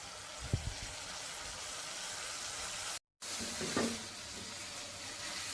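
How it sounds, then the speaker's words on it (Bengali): Prawn curry being fried down in a pan gives a soft, steady sizzle with a couple of faint stirring knocks and a brief break in the middle. "এখন আমি আবারও একটু কষিয়ে নিচ্ছি"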